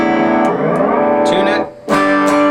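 A single strummed chord on a Peavey AT-200 electric guitar with auto-tune switched on rings out, its pitch bending and snapping in a processed, robotic way, then a second strum follows after a brief dip.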